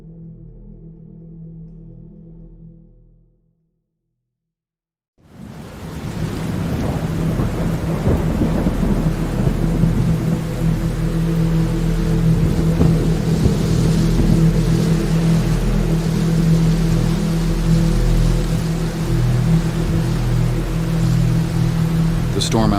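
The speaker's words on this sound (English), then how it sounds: "The storm outside raged relentlessly, the wind howling through the trees and the rain battering against the windows." A thunderstorm sound effect with rain: after a short quiet gap, a loud, steady downpour rolls in with deep rumbling thunder underneath, sustained and close.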